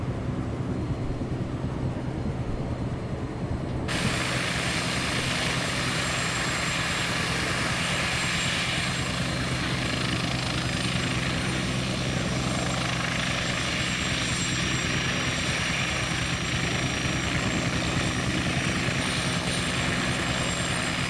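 A Westland Wasp helicopter in Microsoft Flight Simulator 2020 comes in to land beside fuel tanks, its rotor and turbine roaring loud and steady, the sound brightening and filling out after the first few seconds.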